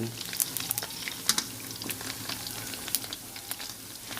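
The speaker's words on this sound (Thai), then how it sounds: "แล้วก็ต้องทอดไปใจเย็นๆนะเพื่อนๆเนาะ" Crispy pork belly frying in oil in a home kitchen, a steady close sizzle scattered with sharp crackling pops that keeps going the whole time, with faint talk in the background.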